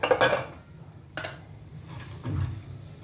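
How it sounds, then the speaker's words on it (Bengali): Whole cardamom pods, cloves and a cinnamon stick drop into hot oil in a pan, giving a few close clinks and clatters of metal and utensil with a soft sizzle in between. "2টো এলাচ, কিছু লবঙ্গ আর একটা দারচিনি, এটা আমি অ্যাড করে দিলাম"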